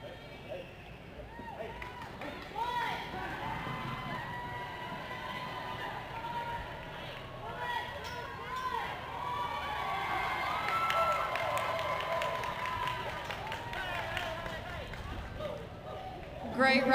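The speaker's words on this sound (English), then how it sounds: "Let's cheer him on, y'all" Crowd at a rodeo riding event cheers and whoops for a rider, a steady swell of voices and shouts that rises in bursts, with an announcer talking over it and a louder surge at the end.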